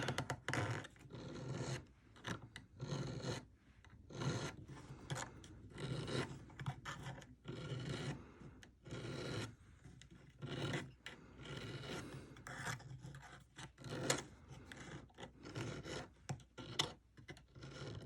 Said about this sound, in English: I'm going to use a smaller needle file that doesn't have such an aggressive cut